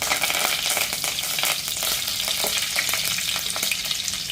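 Mustard seeds, cumin and curry leaves sizzle in hot oil, a dense, loud crackling hiss with rapid pops and spatters, close up and continuous with no voices.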